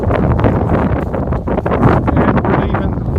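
Heavy wind buffets the microphone on the Appalachian Trail at Molly Ridge Shelter with a constant roaring rumble that rises and falls in gusts, loud and close, with no clear talk above it.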